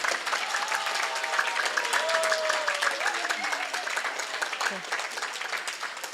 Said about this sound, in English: You can give them a big round of applause again.